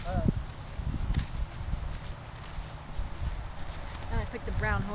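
A brown horse's hooves clip-clop in an uneven walking rhythm during an evening riding lesson under lights, moderately close, with voices talking over and between the steps.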